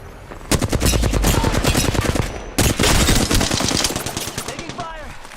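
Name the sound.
gunfire in the video game Apex Legends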